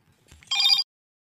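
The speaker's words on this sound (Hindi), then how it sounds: "फोन आ गया था" A phone rings with an incoming call, one short, bright electronic burst that stops abruptly into silence.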